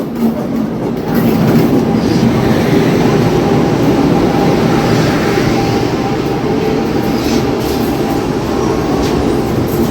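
A DEMU passenger train pulls out of Secunderabad Junction station bound for Siddipet, its steady loud rumble and rhythmic wheel clatter filling the whole stretch close by.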